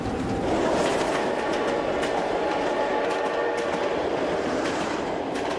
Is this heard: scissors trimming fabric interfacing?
no